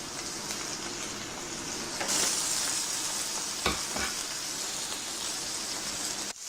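A rib-eye steak sizzles steadily in a hot pan, a continuous loud crackle and hiss with a few sharper pops and a clatter at the end.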